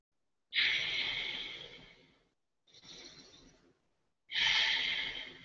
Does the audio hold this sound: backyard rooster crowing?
no